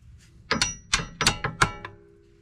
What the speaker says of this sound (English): I'm going to take the tension off, and then I'm going to tap that bolt through.